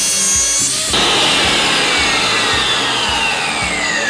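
A resin bond blade saw cuts through painted glass tile, a loud continuous grinding whine with steady rhythmic low pulses, close up and alone with no talk.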